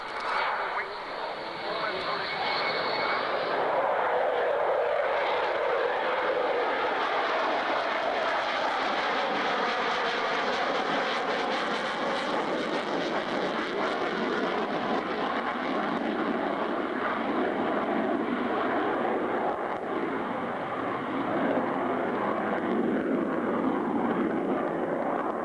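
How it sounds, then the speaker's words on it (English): Aircraft at the 1992 Lakenheath airshow, a loud sustained engine roar filling the scene with a broad rushing tone, continuous and close, with voices faintly present beneath. "It's 1992. It's the Airshow from Lakenheath."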